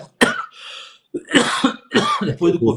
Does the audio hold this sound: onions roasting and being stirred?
no